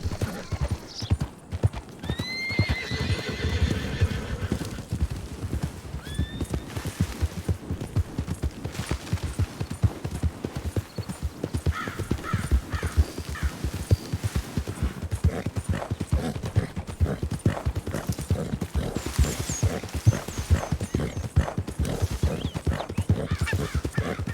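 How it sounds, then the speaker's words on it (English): A small herd of horses moves about nearby, with hooves clip-clopping continuously and several high whinnies, some close and some farther off. "I always get disturbed by this little herd of horses that hangs out around here"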